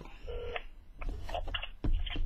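Telephone dialing tones beep in short bursts while a call is placed to reach a person for an interview, followed by connection clicks and line noise, moderately quiet.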